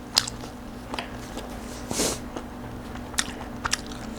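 Someone eating grilled oyster blade beef makes close, quiet chewing with a few sharp bites and moist clicks scattered over a low background.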